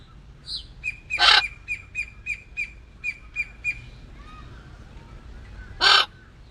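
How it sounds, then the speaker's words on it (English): Outdoor birds call, with a crow's loud harsh caw followed by a steady series of about eight short, evenly spaced chirping calls, then another loud squawk a few seconds later, fairly close. "Are you talking to the other birdies?"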